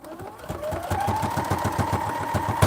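Sewing machine stitching through very thick fabric at a 3.5 stitch length, running in a fast steady clatter with a faint whirring motor tone, close and continuous without speech.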